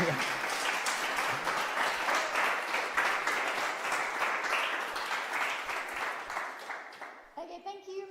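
Audience applause after a reef lecture on World Ocean Day, a sustained, even clatter of many hands lasting several seconds before fading, with a voice starting to speak as it dies down.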